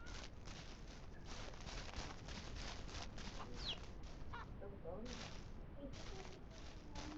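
Chickens in the video game Ranch Simulator cluck over and over in quick bursts, close and fairly loud, against a constant busy background hiss.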